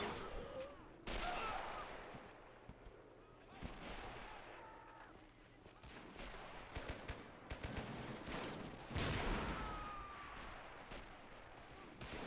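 Gunfire crackles through a Men of War Assault Squad battle as commandos approach a headquarters, with repeated sharp shots, bursts and heavier booms scattered across the scene, some close and loud, others distant, without any voices.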